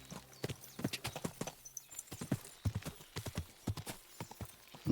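Horse hooves clip-clop steadily on the ground in the medieval game Kingdom Come: Deliverance II, a brisk, evenly paced trotting rhythm, close and clear, with a faint whinny mixed in.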